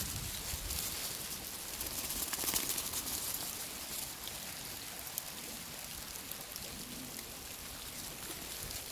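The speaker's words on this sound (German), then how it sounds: "und heute regnet es leider wieder" Cold January rain at about five degrees falls as a steady, soft, diffuse patter, with light scattered drops against a faint wash of background noise, and no voices.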